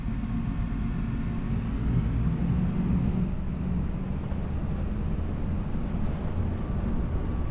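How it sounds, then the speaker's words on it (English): A combine harvester fitted with a corn header driving in a farming simulation game, a steady low engine drone with constant rumble throughout, no speech. "We are going to get right into the combine harvester and grab a corn header and start driving these guys down."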